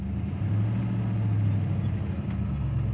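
A 1958 Plymouth Fury's engine runs steadily at a low idle, close by and alone, with a constant deep hum and no revving.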